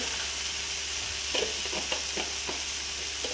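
Prawns for udang masala fry in a pan with a dense, steady sizzle close up, broken by a few soft stirring scrapes.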